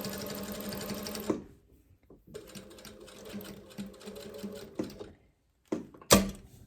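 A sewing machine back-stitches an invisible zipper in rapid mechanical bursts, stopping and restarting with a brief pause, ending in a sharp clack, close and clear.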